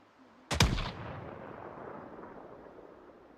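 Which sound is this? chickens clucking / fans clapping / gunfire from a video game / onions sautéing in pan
gunfire from a video game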